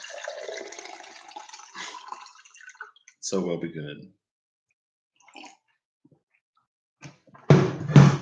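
Water is poured into a glass to dilute a drink, a loud burst of splashing pouring near the end that follows scattered talking and quieter clinks and rustles.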